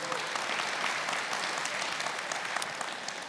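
Steady applause from a crowd, dense clapping that holds at an even level for a few seconds with no voices over it.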